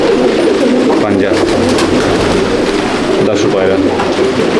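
Madrasi pigeons coo with low, repeated throaty calls inside a pigeon loft, loud and close, overlapping one another in a steady rumbling chorus.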